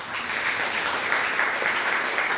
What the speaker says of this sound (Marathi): जोरदार कडकडून टाळ्या वाजवून